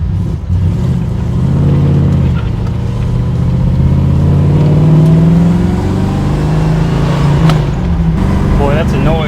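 The engine of a 1969 Chevrolet Camaro Double COPO revs up and climbs through several rising, throaty pulls, loud and close, with people talking over it.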